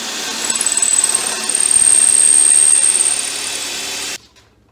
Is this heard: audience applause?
no